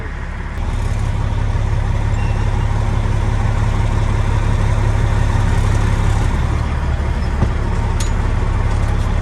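Loud, steady idle of a Peterbilt 379 truck engine heard from inside the cab, a continuous deep rumble with no talking.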